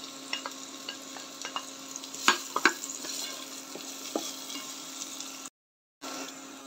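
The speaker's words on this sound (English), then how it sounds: "Nitakaanga mpaka vitunguu vyangu vie vya dark brown." Onions frying in oil in a pan already used for meatballs, a steady close sizzle with scattered crackles and a few louder stirring scrapes, breaking off briefly near the end.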